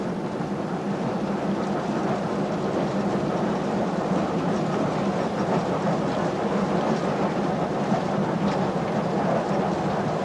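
Pakistan Railways steam locomotive cantering along, heard as a steady, loud, continuous rumble and roar from the crowded footplate with no clear breaks.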